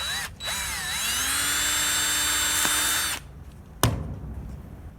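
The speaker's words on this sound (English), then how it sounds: "put it in a drill, of course, and you're going to drill a hole right through the center" A power drill whirs for about three seconds while drilling a hole through the center of a model float plane propeller, its pitch dipping as it bites and then holding steady, followed by a sharp clack and quieter handling.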